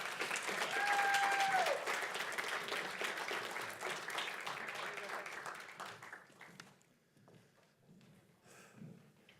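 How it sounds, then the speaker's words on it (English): A crowd claps steadily at first, then the applause thins out and trails away into scattered claps. "Let's have a round of applause for Chris Rose, everybody."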